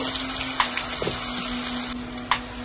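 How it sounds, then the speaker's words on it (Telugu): Curry leaves, cumin and asafoetida crackling in hot oil, a steady sizzling hiss with a few sharp pops, close and unaccompanied by voices. "నూనె కాగింది. ఇప్పుడు ఇందులో కరివేపాకు వేస్తున్నాను, కొంచెం జీలకర్ర, కొంచెం ఇంగువ"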